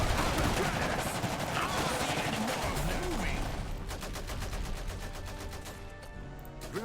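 Gunfire in Iron Harvest, a dense and steady crackle of rifle and machine-gun shots with battlefield noise throughout, loud and continuous with no pause.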